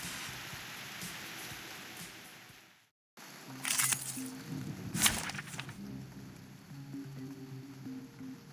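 Rain on a night in the video game Reverse: 1999, a steady hiss with brief dropouts, low musical tones underneath and a couple of brighter splashy bursts partway through.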